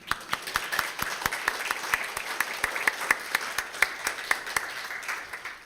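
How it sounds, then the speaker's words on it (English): A church congregation at an Easter Sunday service claps in steady, sustained applause, many hands together with regular rhythmic beats, filling the room. "So just a round of applause and celebration"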